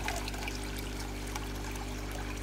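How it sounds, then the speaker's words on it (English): Water from an automatic top-up line pours steadily into a koi pond, a continuous close trickling stream with no talking over it. "I'll open that up, and it should just fill the pond back up"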